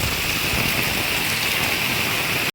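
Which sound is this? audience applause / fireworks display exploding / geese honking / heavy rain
heavy rain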